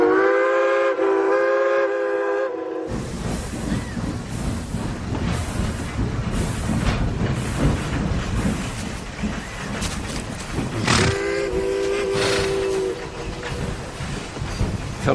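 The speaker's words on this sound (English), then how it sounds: "Quick now, while the train pulls in." A steam train pulls into a station, its whistle sounding loudly at the start and again near the end while the steady rumble and clatter of rolling carriages fills the space between.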